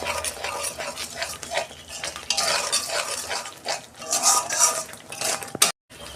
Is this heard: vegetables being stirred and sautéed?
yes